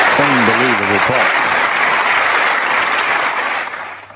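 Snooker crowd at the 2021 UK Championship final between a player and Kyren Wilson applauding a pot, a loud sustained burst of clapping that holds steady and tails off near the end, with a commentator's voice briefly heard at the start.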